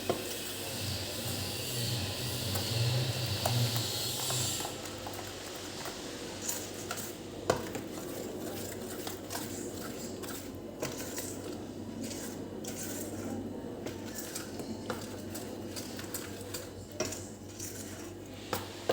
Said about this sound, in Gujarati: હવે આને બધાને આપણે એક વખત સરસ મિક્સ કરી લેવાનું